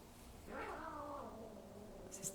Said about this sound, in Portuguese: Vocês estão ouvindo uma briga de gatinhos aí?